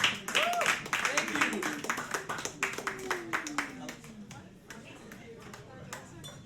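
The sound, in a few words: audience applause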